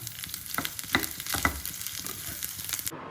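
Small chopped pieces of coconut fry in hot ghee, giving a close, continuous crackling sizzle with a few sharper pops and stirring clicks, and no voices.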